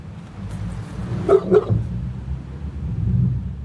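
A dog barks twice in quick succession at a moderate distance, the sharp yaps standing out over a low background rumble of outdoor noise, with no talking.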